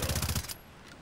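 A new rifle fires in the Far Cry 3 video game: a loud, rapid string of about six evenly spaced shots in half a second, then it cuts off into a quiet tail.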